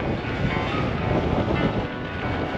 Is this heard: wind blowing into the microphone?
yes